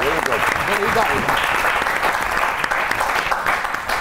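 A studio audience on a comedy talk show claps in sustained, dense applause that holds steady for several seconds, loud and close.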